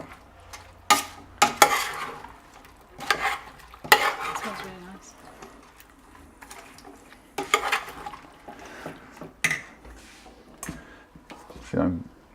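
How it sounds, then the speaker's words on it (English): Vegetables with olive oil being mixed by hand for briam, a Greek roasted vegetable dish, giving intermittent close scrapes and clinks against a dish between pauses, with a person talking alongside. "I'm going to just mix it up nicely."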